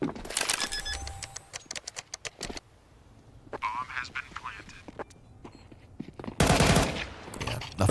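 SMG fire crackles in short rapid bursts during a professional Counter-Strike 2 match, NaVi vs G2 at the BLAST Premier World Final 2023, with a commentator talking over the shots and a louder burst near the end.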